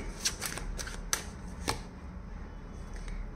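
Tarot cards being shuffled by hand in a quiet room, a series of soft riffling bursts and crisp snaps scattered over a few seconds with no voice.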